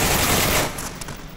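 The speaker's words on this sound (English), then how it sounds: "I think someone's shooting at me." Rapid automatic gunfire in the VR shooter Onward, a dense burst of crackling shots that fades after half a second into quieter scattered pops, no voices.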